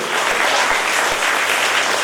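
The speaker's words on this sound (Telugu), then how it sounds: "ఒక్కసారి మీరు అందరూ కూడా క్లాప్ కొట్టాలి" An audience at a sports tournament event in Vizag breaks into steady, dense applause, many hands clapping together loudly and evenly for the whole stretch.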